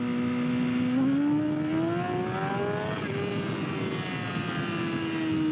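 A motorcycle engine held in first gear under wheelie control, a continuous strained rev that climbs in pitch, steadies, then eases slightly, loud and close with no talking.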